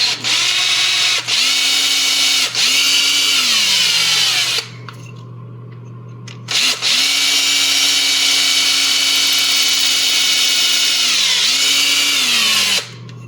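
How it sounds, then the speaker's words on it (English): A power drill whines steadily at close range, boring into resin-filled plastic, its pitch dipping and rising as it bites, with a brief pause midway before drilling resumes. "If I feel resistance, I kind of back the drill out."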